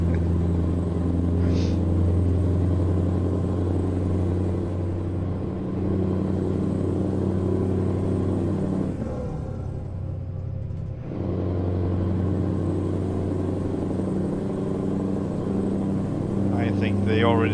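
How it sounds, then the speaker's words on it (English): A Scania 730 V8 truck engine drones with a steady low rumble while pulling a full-size Ekeri tandem trailer, holding a constant idle-like hum with a brief dip midway. "If you still want to hear that V8."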